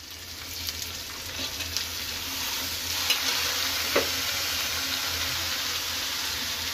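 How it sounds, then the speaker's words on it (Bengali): Bitter gourd with potatoes frying in a pan, a steady close sizzle running throughout with occasional clinks and stirring scrapes. "করলা আধ ভাজা হয়ে গেছে, এবার আলুগুলো দিয়ে দেব।"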